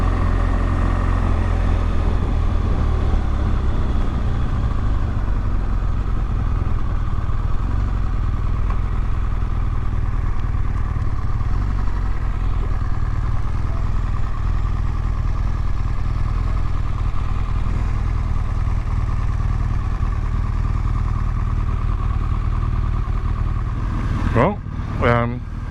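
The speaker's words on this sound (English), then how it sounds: "Yes, lots of bikes." Motorcycles at a roadside stop on the Cumbrian coast, recorded from a BMW R1200GS Rallye: a steady low engine rumble and idling drone persists throughout, close and loud, with a brief sharper burst near the end.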